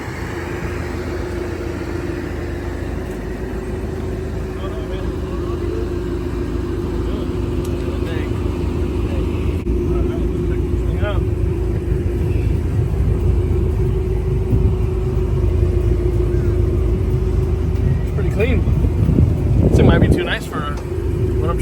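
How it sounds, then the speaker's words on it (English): A car rolling up and arriving, a steady low engine rumble that grows slightly louder as it nears, ending with a brief clatter, with people talking throughout. "The mystery vehicle is rolling up now."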